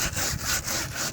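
Brush scrubbing tire shine coating off a car tire near the rim, a close, rapid back-and-forth rasping rhythm of about five strokes, loud and alone.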